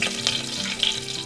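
Mustard seeds and curry leaves fry in hot oil with a brief, close sizzle and a few crackling pops, heard on their own.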